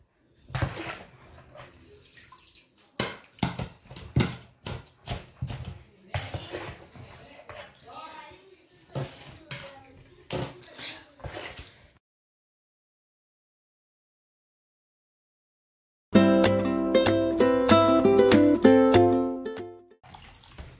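Water poured into glass jars of quick mixed pickle, a splashing, gurgling run of uneven bursts lasting about twelve seconds, then silence, followed by a short stretch of tonal music.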